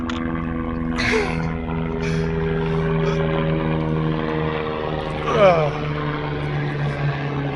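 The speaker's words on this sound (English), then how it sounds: "there's a helicopter coming" A helicopter's rotor thrum grows louder as it passes overhead in New Zealand alpine wilderness, steady and droning, with a brief burst of voices partway through.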